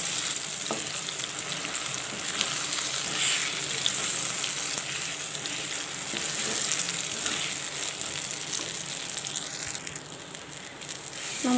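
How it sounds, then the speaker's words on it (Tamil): Ground horse grain paste sautéing in hot oil gives a continuous, fairly loud sizzle with faint stirring scrapes, steady throughout with no voices. "அதை நம்ம போட்டு எண்ணெயில் வதக்கிக்கணும்"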